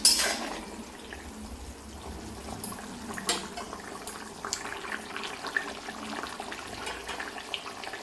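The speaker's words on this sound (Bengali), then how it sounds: "এই যে আমি ভেজে রাখা মাছগুলি এর মধ্যে দিয়ে দিচ্ছি" Fried rohu fish pieces go into a simmering broth: a soft watery bubbling and splashing runs throughout, with a few small knocks and no one speaking.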